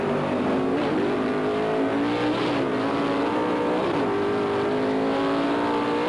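Vintage drag racing cars, including a Mustang, speeding down the strip, with a loud, sustained engine roar whose pitch rises and shifts, alone without talk.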